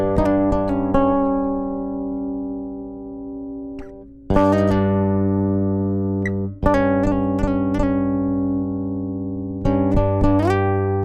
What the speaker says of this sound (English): here we go, just the piezo sound